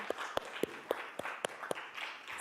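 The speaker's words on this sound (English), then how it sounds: "join me in a round of applause thanking our speakers" Small audience at a career night applauding the speakers, a few distinct claps at a slow irregular pace, faint and close, with no voices over them.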